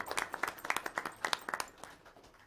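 Brief scattered applause from a school board meeting audience for a high school principal, a short burst of claps that thins out and fades after about two seconds.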